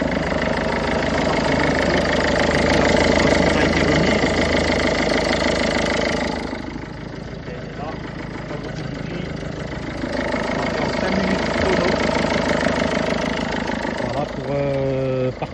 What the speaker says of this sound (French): là on va démarrer le véhicule pour voir que vous voyez que le véhicule s'allume bien